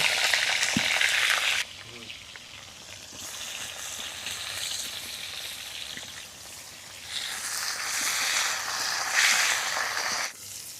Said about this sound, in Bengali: আলুর মতো লাল করে বেগুনগুলো ভেজে নেব